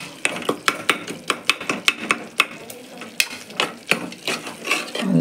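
Tomatoes sauté with biryani powder in a pan, a steady sizzle broken by regular, sharp scrapes and taps of a spoon stirring against the metal, close and clear.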